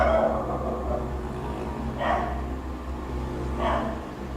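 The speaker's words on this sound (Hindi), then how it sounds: "आप कुत्तों की आवाज़ें सुन रहे होंगे" Distant dogs barking, a few muffled barks spaced a second or two apart over steady low outdoor rumble, near a shrine area.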